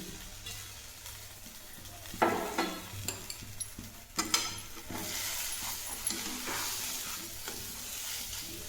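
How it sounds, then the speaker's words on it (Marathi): Potato paratha filling with chopped coriander is stirred in a pan: a few clattering scrapes and knocks from the spoon come first, then a soft, steady sizzle under continued stirring, close and fairly quiet. "मी परत व्यवस्थित हलवून घेतली"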